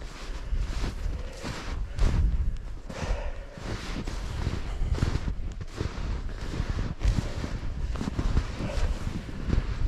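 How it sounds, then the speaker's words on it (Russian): Strong wind buffets the microphone in loud, continuous low rumbling gusts at Kolvitskaya Bay, Russia, steady throughout with no voices. "Ух, какой ветер."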